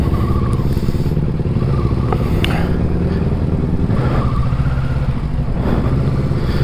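A 650 motorcycle is ridden on a New Zealand road, its engine a steady, continuous drone with wind rush and faint clatter, fairly loud throughout.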